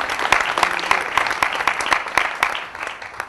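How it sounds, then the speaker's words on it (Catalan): Audience applause at a cultural panel event, a full, lively patter of many hands with some sharper individual claps standing out, easing off slightly at the end. "Un aplaudiment i gràcies, Roberto,"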